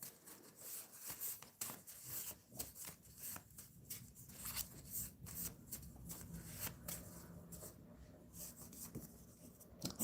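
A deck of cards being shuffled by hand, with repeated quick riffling and soft shuffling bursts, close and fairly faint, without talk.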